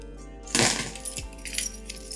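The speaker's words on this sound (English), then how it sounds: "we have the car key" A car key jingles and clinks as it is handled, a bright metallic rattle bursting in after a quiet start, then lighter taps and small scrapes close by, with no one speaking.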